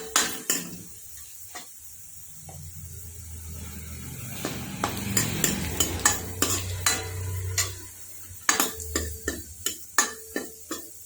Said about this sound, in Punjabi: ਹੁਣ ਆਪਾਂ ਇਹਦੇ ਵਿੱਚ ਅੱਧਾ ਗੱਠਾ ਲਸਣ ਦਾ ਪਾਵਾਂਗੇ